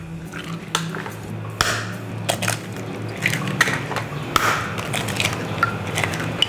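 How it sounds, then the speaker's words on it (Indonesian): Eggs cracked by hand for a vegetable fu yung hai, a series of sharp shell taps and crunches with small clinks of kitchenware, close and fairly loud over a steady low kitchen hum. "sekarang kita pecahkan telurnya"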